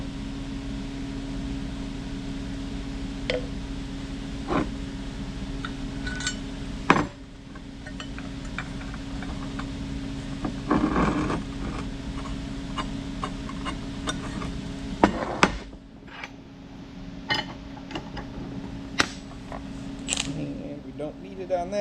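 Metal shanks for a Glencoe soil finisher being assembled, with scattered sharp metallic clinks and clanks of parts and bolts over a steady shop hum, a louder clank near the middle and a few more toward the end.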